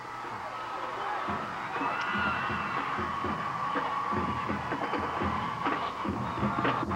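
A football stadium crowd at a 1990 Rider vs. Keller game roars and cheers steadily as a kickoff approaches, a broad, sustained wash of voices with scattered shouts rising from the stands.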